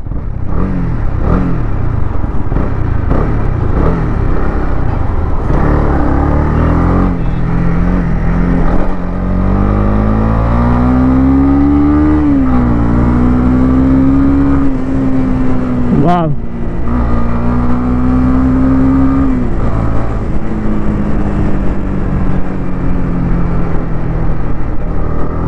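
A 2024 Honda CB300R motorcycle riding on the road, its engine note rising and falling steadily throughout, loud and continuous with gear changes, while someone talks over it.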